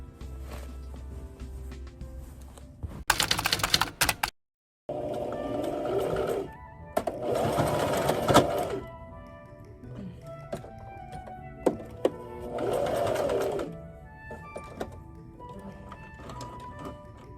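A sewing machine stitches denim jacket panels together in several loud, close bursts of rapid mechanical whirring, separated by short quiet pauses and light handling clicks.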